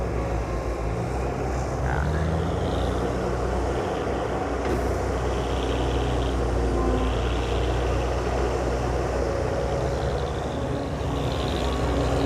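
A heavy turbo diesel engine of a Kobelco SK120 excavator runs steadily throughout, a deep continuous rumble with a droning mechanical hum and no pauses.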